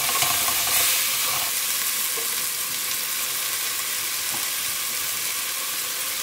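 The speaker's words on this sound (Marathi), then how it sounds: "आता आमी तितून घालया आमची जिंजर गार्लिक पेस्ट आनी ती न्हू मातशी सॉटे करूया." Ginger garlic paste sautés in a pan with softened tomatoes for a Goan pork pasta, giving a steady, close sizzle and frying hiss throughout with no voices.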